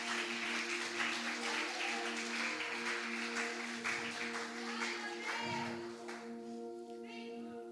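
A church congregation claps in applause at a bishop's sermon, a steady dense patter filling the hall at moderate level, with a sustained musical tone underneath and some voices mixed in.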